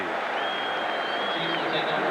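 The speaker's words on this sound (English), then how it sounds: "This is one day the crowd has been very active for the Jets." A football stadium crowd at a 1988 Jets versus Chiefs game gives a sustained burst of applause and cheering, a thick, even roar that holds from start to finish.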